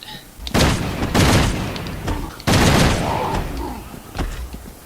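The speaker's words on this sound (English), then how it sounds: "let's test the Hydra Shotgun on a whopper" Hydra Shotgun in Resident Evil 6 fired rapidly, several loud booming blasts in quick succession with short gaps, each one heavy and close.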